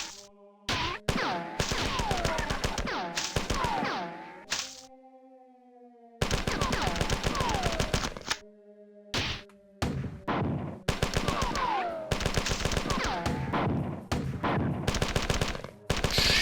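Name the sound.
gunfire from the video game Marathon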